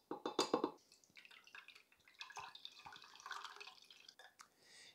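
Juice squeezed from apple mush through a metal strainer trickles and drips in an uneven run of small wet patters and splashes, close and quiet, with no voices.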